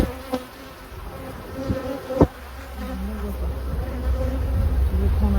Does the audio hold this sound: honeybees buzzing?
yes